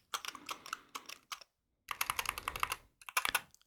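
Typing on a Wooting 60HE keyboard: quick clusters of crisp keystrokes close up, broken by a brief pause and then resumed, with no voice over them.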